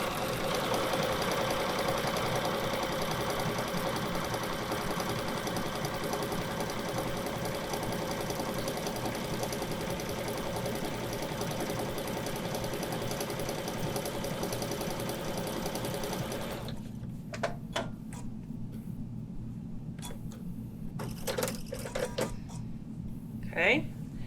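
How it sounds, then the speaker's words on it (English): A sewing machine stitches a quarter-inch seam with a steady, even whirring hum for about seventeen seconds, then stops, leaving scattered light clicks and handling noises. "all you do is stitch a 1/4 inch seam along it"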